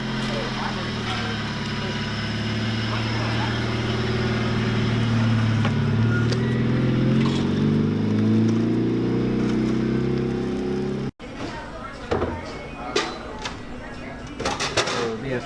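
A lowered, slammed car's engine hums steadily and rises as it pulls away on a test drive, later giving way to rougher road and wind noise, with people talking over it.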